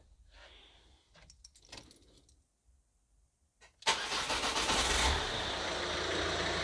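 A Ford 2.0 TDCi diesel engine with a newly replaced drive belt and tensioner cranks briefly after a few quiet clicks and bumps, then catches and settles into a loud, steady idle close by, with no belt squeal.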